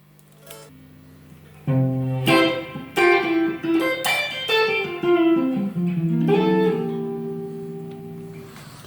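An electric Telecaster guitar plays through a Black Cat 30R tube amp with no echo unit in the path. It gives a short phrase of plucked notes and chords with quick attacks, closely miked, ending on a sustained note.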